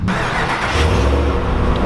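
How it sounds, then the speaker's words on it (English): A car with its stock exhaust starts up, then settles at once into a dense, steady low hum that stays close and fairly loud throughout, with no talking. "That's the stock exhaust. It's got a nice little hum to it."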